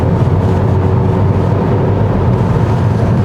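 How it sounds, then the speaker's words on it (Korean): A 2021 Kia Seltos with a 1.6 turbo gasoline engine, 4WD and a 7-speed dual-clutch gearbox pulls away, a steady, close, low engine and road drone heard from inside the cabin without talk. "그럼 차를 출발해 볼게요"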